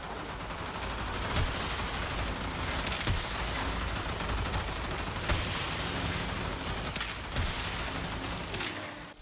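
The Synapse weapon in the video game Warframe fires continuously with area damage, a dense, unbroken rush of gunfire-like noise punctuated by sharper bursts across the whole stretch.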